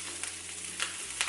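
Butter sizzling as it melts in a pan, a close, steady crackling hiss with a few brief spatters and pops and no voices.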